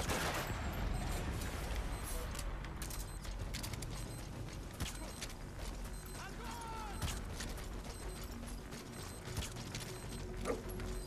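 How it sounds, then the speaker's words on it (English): Gunshots from the video game Metal Gear Solid V: The Phantom Pain, fired at a weapons transport truck, as faint scattered reports under steady low mechanical rumble and clatter. "Fire a couple shots off."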